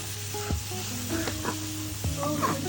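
A hilsa fish curry with beans, potatoes and tomato paste sizzles steadily in a pan while a utensil stirs it, giving a few scraping strokes over the constant frying hiss.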